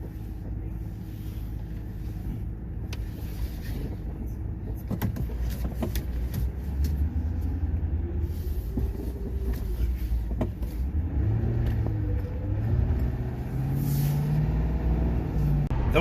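A car's engine hums and rises in pitch as it pulls away from a junkyard, with steady road rumble and faint wind, heard from inside over sixteen seconds.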